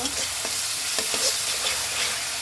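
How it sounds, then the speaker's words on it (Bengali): Salt and turmeric sautéing with spices in a pan for a Bengali tangra fish and greens curry, a steady close sizzle with scattered stirring scrapes and no voices. "লবণ দিয়ে দিলাম, হলুদটা দিয়ে দিলাম, মশলাটা কষিয়ে নেব।"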